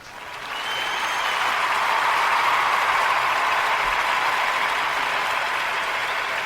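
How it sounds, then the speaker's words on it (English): A dense, sustained round of applause from a large crowd at a Saturday night show, swelling quickly and holding as an even roar of clapping for several seconds. "Where's that round of applause here?"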